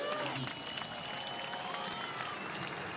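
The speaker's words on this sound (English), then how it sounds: "So a round of applause for Hope Avayevu." Distant, fairly faint stadium crowd applause rolls on continuously at a Phoenix Rising FC versus Orange County SC soccer match, a broad wash of clapping and crowd noise.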